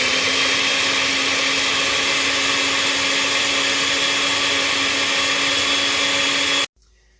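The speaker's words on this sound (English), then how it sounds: "Add our cream cheese, our nuts, and the thick cream in the blender." A blender runs loud and steady, mixing cream cheese, nuts and thick cream into a walnut sauce for chiles en nogada, then cuts off abruptly near the end.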